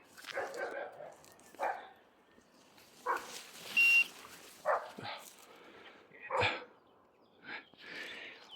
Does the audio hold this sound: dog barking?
yes